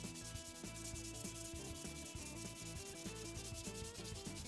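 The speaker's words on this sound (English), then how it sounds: "With the bedding compound trimmed away, I begin sanding with 220 grit abrasive paper." Steady rubbing strokes of 220 grit abrasive paper sanding a wooden Remington Model 11 shotgun stock, continuous and close with a regular back-and-forth rhythm, no talk.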